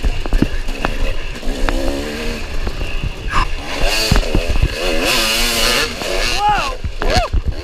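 Dirt bike engines rev and bog at a GNCC off-road race at Tomahawk, with a rider's bike wedged between trees. The engines rise and fall in loud, uneven bursts while people shout nearby.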